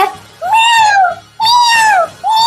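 A person imitates a cat with three drawn-out, rising and falling meows, loud and close, each separated by a brief pause.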